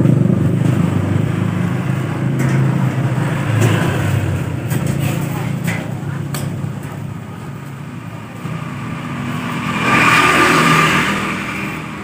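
Honda Beat scooter engine revving with a whirring, helicopter-like drone, running steadily and loud throughout, then rising in a stronger rev near the end.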